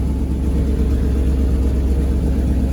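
A 1963 International Loadstar 1800 truck engine idles steadily with a low, throbbing rumble, close and constant, no knocking, no voices.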